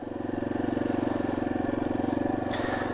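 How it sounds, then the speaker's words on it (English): A motorcycle engine runs at a steady, throbbing idle-to-pull pace as the rider sets off on a high desert road, a loud, close and continuous pulse. "We're going to hop on the bike and get rolling."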